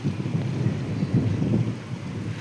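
Heavy rain pours steadily with a low rumbling of thunder swelling and fading beneath it.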